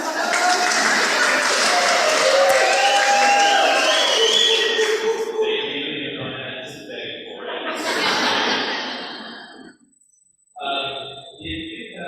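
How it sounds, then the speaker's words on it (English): An audience at a delegate orientation session breaks into sustained applause mixed with chuckles and crowd murmur, loud and dense for several seconds before fading into scattered claps and quiet. "You should get applause out of that."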